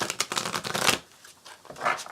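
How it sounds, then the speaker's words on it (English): Rapid riffling of a tarot deck being shuffled, a dense crisp burst lasting about a second, followed by a quieter second riffle shortly after. "So let's give it a quick shuffle."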